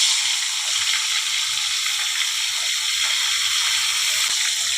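Bhola bhetki fish frying in hot oil, a steady bright hiss and sizzle with faint crackles throughout, close and even, with no talk over it.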